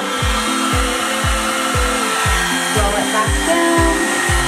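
A handheld hair dryer on its low setting blows at home salon styling, a steady loud whooshing hum with a regular pulsing flutter repeating about twice a second, close and unbroken.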